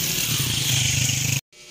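A motorcycle engine drones on a highway near a path to a waterfall, a loud steady buzzing rumble close by that cuts off abruptly, leaving faint background noise.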